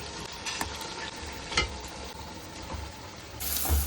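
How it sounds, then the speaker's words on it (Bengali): Vegetables for fried rice fry in a pan, a continuous close sizzle broken by occasional scraping stirs and a brief louder hiss near the end. "ফ্রাইড রাইসের জন্য ভেজিসগুলো ভেজে নিচ্ছি"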